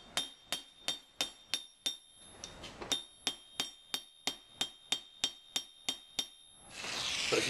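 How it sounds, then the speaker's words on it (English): Steady metallic hammer taps on gold ring out one after another, about two per second, close and bright, ending in a rush of noise. "next we just want to hammer it a little bit"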